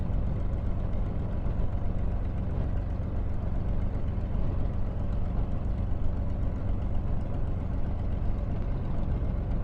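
Steady, loud aircraft engine drone from Microsoft Flight Simulator on Xbox Series X, a continuous low rumble holding constant for the whole stretch with no breaks and no talk over it.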